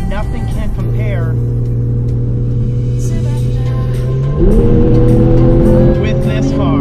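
A 400-horsepower Porsche 911 drives hard on a public road, its engine holding a steady droning note before stepping up in pitch under acceleration, close and loud with a voice talking over it.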